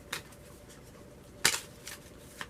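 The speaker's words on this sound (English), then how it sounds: "I get to shuffle my hand in." Pokémon trading cards shuffled by hand during a tabletop game, a few short crisp riffling bursts with one louder flurry in the middle, close and quiet with no talking.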